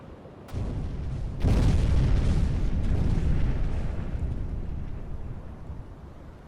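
Deep, rumbling underwater depth charge blasts in the Uboat submarine game: a dull thud, then a heavier boom that swells into a long low roar and slowly fades, heard alone.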